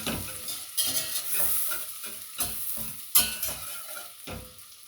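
Finely chopped Java shallot sizzles in about 50 g of melting butter in a pan, a steady close frying hiss broken by several sharp scraping stirs at irregular intervals, with no voices.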